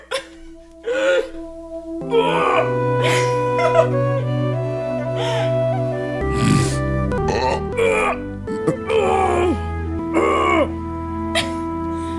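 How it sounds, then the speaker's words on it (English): Harsh throat-clearing coughs and choking gasps come in bursts between stretches of sustained tones, close and loud, with groaning sounds mixed in. "The king is choking and coughing."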